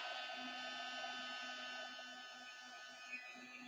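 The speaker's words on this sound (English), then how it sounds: "Let's get the heat gun out, y'all. It's loud, I think. Heat gun, y'all. We're going to dry it from the back." A heat gun blows a steady, loud whine and hiss while drying clear gesso from the back of a piece, holding one even tone throughout with no talk.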